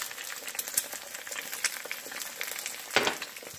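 Eggs frying in a pan for a Jamaican breakfast, yolks squished, a bright crackling sizzle with irregular pops and a louder spatter burst near the end, no voices.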